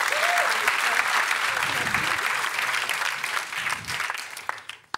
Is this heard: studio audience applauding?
yes